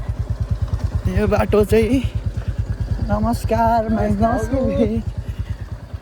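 A motorbike ridden slowly along a rough, uneven rural road in Nepal, its engine a steady low pulsing throb close by, with someone talking over it in bursts.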